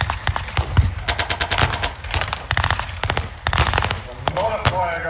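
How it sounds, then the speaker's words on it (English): Gunfire at a WWII battle re-enactment at Tankfest at The Tank Museum: dense rapid bursts of blank shots and machine-gun rattle, loud and continuous, with a voice talking over the last part. "A lot of fire going down now."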